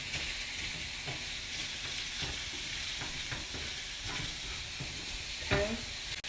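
Potatoes sauté in a pan with seasonings and dried parsley, a steady soft sizzle with scattered stirring scrapes and light clinks throughout.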